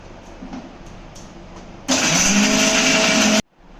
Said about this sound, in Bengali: এগুলো মিক্সিতে পেস্ট করে নেব আচ্ছা। জল ছাড়া পেস্ট করতে হবে